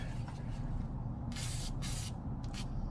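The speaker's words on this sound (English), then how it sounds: "just put a little rust penetrant" Short hissing bursts from an aerosol can of rust penetrant sprayed onto a tie rod on the rear suspension of a 1984 C4 Corvette, two main sprays and a shorter one over a low rumbling background.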